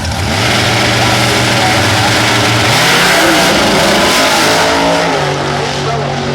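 A Corvette drag car at the 2007 IHRA Presidents Cup Nationals accelerates hard, its engine a loud, sustained roar rising in pitch, heard close with a commentator talking over it.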